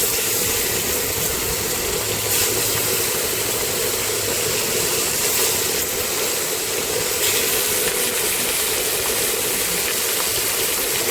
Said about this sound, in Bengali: মাছটাকে এবার ফ্রাই করে নেব।